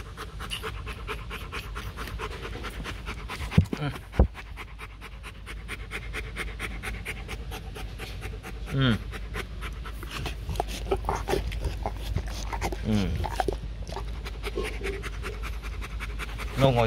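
A large male Rottweiler pants heavily and continuously, with a fast, steady rhythm of rasping breaths close to the mic; a few brief voices speak over it now and then.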